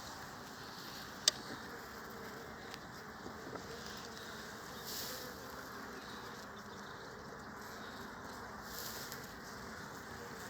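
Honeybees buzzing at an open hive during a beekeeper's inspection, a faint steady drone with an occasional sharp tick, no talking.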